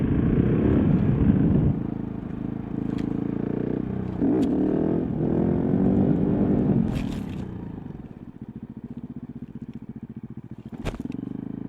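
A motorcycle engine revs and roars up close as the rider lifts into a wheelie, the pitch swelling and falling over several surges before easing to a lower idle-like drone with a few sharp clicks and scrapes.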